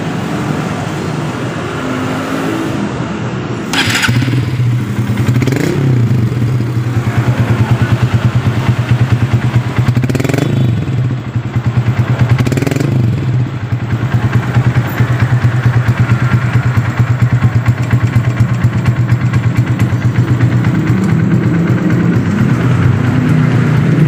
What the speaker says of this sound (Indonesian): Oke, kita hidupkan mesin.